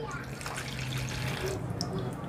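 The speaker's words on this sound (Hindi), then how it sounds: "इस तरीके से हमें पोहा को अच्छे तरीके से धोना है, उसके बाद हम इसका पानी जो है वो निकाल देंगे" Poha (flattened rice) being rinsed in water, giving a steady wet swishing and trickling, with someone talking over it.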